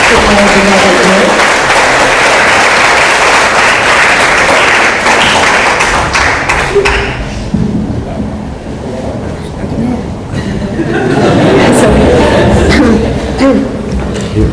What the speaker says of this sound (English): Can we have a round of applause to all the judges?